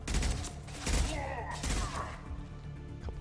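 Gunfire in Mass Effect 2, a few loud bursts of shots with thumping impacts spaced about a second apart, followed by lighter combat noise as the fight winds down.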